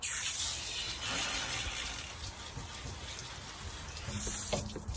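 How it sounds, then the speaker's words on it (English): Running water rinses a bicycle's components, including chain and chainrings, a steady hissing spray close by with no talk. "Rinse the components off."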